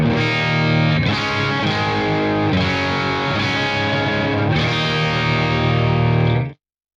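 Heavily distorted electric guitar through an amp modeler's Diesel VH4 model on channel 2 chugs through a thick rhythm riff, loud and steady with chords changing every second or two, then stops abruptly.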